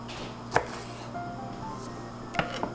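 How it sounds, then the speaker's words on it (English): A knife cuts through a tomato on a cutting board, with two or three sharp, distinct chops spaced apart over a quiet kitchen background and no talking. "now I'm going to chop up the tomato"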